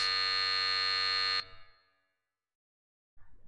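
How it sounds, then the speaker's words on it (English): A loud, flat electronic buzzer sounds for about a second and a half in the Symphonic Rain video game, cuts off sharply with a brief fading tail, then a short silence follows before another faint sound begins. "The buzzer sounded"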